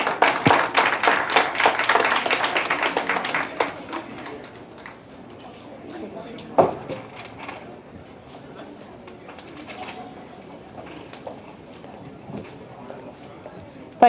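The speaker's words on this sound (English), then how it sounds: "A big round of applause." Audience applause at an award function: loud clapping from a crowd for the first few seconds, fading into scattered claps as people talk in the room.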